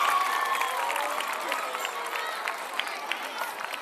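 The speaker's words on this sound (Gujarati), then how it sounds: "તો આપણે તાળીઓથી વધાવી લઈશું" An audience applauds at a high school annual function, a dense sustained clapping from a crowd that slowly fades, with a voice over a loudspeaker in the background.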